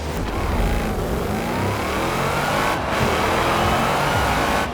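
A 2013 Jeep Wrangler Unlimited races in Forza Horizon 4, its engine droning loud and steady with rising revs and a continuous roar throughout.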